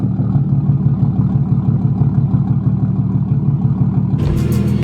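Car engine idling smoothly and quietly, a steady close low hum with faint rhythmic ticking of the fuel injectors firing, continuous throughout before a brief louder burst near the end.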